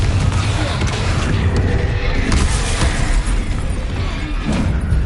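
A Confringo blasting spell exploding in Hogwarts Legacy, a dense, booming, rumbling blast with crackling debris that fills the whole clip at steady, loud level, with game ambience underneath.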